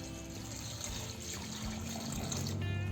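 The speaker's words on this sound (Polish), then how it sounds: "Zalewamy je teraz zwykłą wodą z kranu, byleby tylko była ciepła." Warm running tap water pours steadily into a pot of rice and meat jars, a continuous close splashing rush that lasts throughout.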